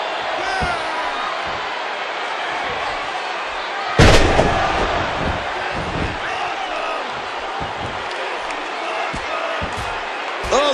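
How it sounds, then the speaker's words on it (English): Punches landing in a WWE 2K14 match between Stone Cold and The Undertaker: thuds and a sharp slam over a constant arena crowd roar, with commentary talking throughout. "Oh, the punch connects."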